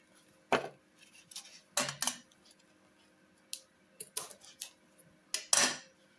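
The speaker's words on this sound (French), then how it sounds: "je coupe" Scissors cut through a paper card for a shabby-style handmade card, giving several separate crisp snips spread out and heard close up with no talking.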